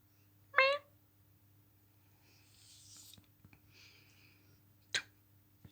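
A cat makes clicking, chattering noises while watching birds in the sky, heard as a sharp short vocal burst near the start and another near the end, with faint soft ticking sounds between them in a quiet room.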